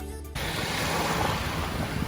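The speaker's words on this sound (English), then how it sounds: "here's a clip of some beautiful ocean water" Ocean waves washing onto a beach in Naples, Florida, a steady broad rushing surf with some wind buffeting the microphone, following a brief cut from another sound at the start.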